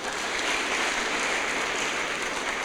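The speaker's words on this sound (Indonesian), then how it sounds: "Tepuk tangan buat Tuhan." Church congregation clapping together during a service, a dense, even wash of applause at moderate level with no speech over it.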